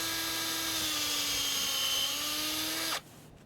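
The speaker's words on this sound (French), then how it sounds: "C'est la méthode moderne, à la perceuse électrique." Electric drill boring a tap hole in a maple tree at a Quebec sugar shack, a steady high whine running continuously for about three seconds, then cutting off abruptly into quiet outdoor ambience.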